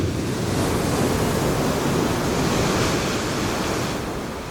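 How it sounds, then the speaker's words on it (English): Rough-weather ocean waves beat against a boat moored in port, a dense, loud, continuous roar of surf and wind that eases slightly toward the end, with no talking. "the waves are hitting us head on"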